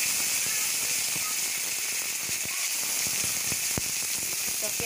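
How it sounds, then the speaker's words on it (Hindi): Onions frying in hot oil for a red saag and dal dish, a steady broadband sizzle with scattered crackling pops throughout, close and continuous with no talk. "तो मैं सबसे पहले प्याज भून लेती हूँ।"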